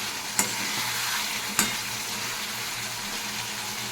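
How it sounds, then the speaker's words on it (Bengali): Spiced masala fries in a pan with a steady, close sizzle, while a utensil stirs and two sharp taps against the pan stand out over the constant hiss. "বেশ ভালো করে মশলাটা কষিয়ে নিচ্ছি আমি।"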